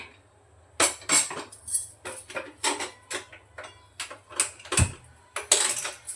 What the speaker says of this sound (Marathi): तर चला आता हा कुकर मी इकडे ठेवते